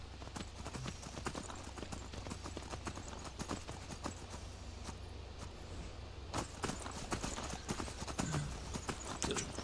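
Steady clip-clop of horse hooves at a walking pace in the video game Skyrim, with ambient outdoor background and occasional louder hoof strikes, no talking.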